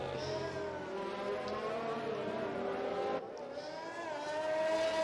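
Formula 1 race cars in a video game pull out of the pit lane in a China race. Several high-pitched engine whines overlap and shift in pitch as they rev, moderately loud with a steady background drone.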